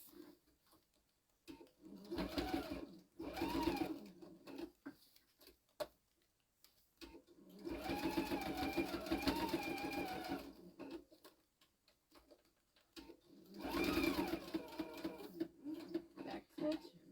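Sewing machine stitching a grid-pattern tea towel, running in three separate bursts of steady rapid mechanical whirring with pauses between, close by, with speech also present.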